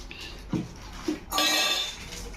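A few steel cooking pots clink and knock together, two short taps followed by a brighter ringing clatter, close and fairly quiet with no talking.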